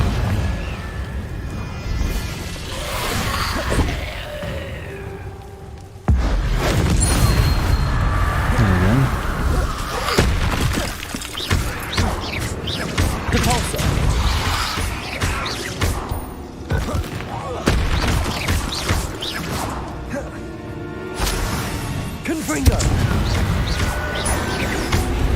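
Fire-spell blasts from Confringo and other combat spells in Hogwarts Legacy boom and thud repeatedly through a dense, loud fight mix, with a sharp onset about six seconds in and a voice speaking over much of it.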